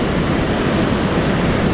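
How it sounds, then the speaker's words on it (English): Strong wind blowing at a riverside in Norway, a loud, continuous broadband roar buffeting the microphone with no pauses or voices. "Rather windy today."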